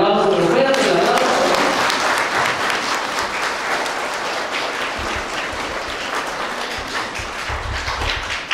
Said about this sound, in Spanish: Vamos a darles otro fuerte aplauso